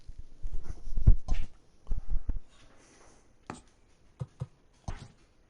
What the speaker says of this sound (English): Apologize, my dog decides to bark.